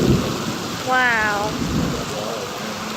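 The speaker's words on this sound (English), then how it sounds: "Look at that rain." Heavy rain storm at an airport pours down as a steady wash of noise, with a brief rising tonal swell and a voice exclaiming once.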